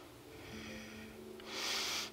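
During a power vinyasa yoga flow, a single audible breath is drawn in through the nose, rising into a close, airy rush near the end over a faint low hum.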